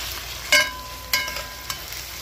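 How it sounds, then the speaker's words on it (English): Steady sizzling of onions frying in a pan, with a few sharp clinks of a utensil stirring against it. "Still have plenty frying to do."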